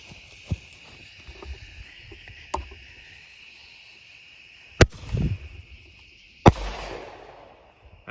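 Small mini mortar firework shells break in the open air. Two sharp bangs land about two seconds apart, each trailing a short crackly rumble, after a couple of faint pops, with no speech.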